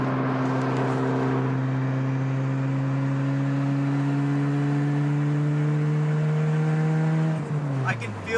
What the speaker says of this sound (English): So again, very, very, very, very loud, straight pipes.